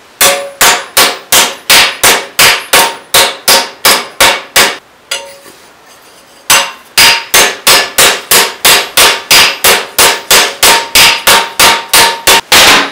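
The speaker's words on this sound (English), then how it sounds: "And I have a ball peen hammer." A ball peen hammer strikes a metal cowboy hat in a fast, steady run of loud, ringing metallic blows. There is a brief pause partway through, then more evenly spaced strikes, close up and with no talk.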